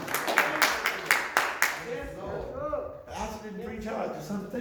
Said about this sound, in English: give him a hand clap of praise if you know that's what's on your life this morning